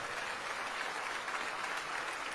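Continuous applause from a church congregation, a thick crowd of hands clapping at an even, moderately loud level throughout.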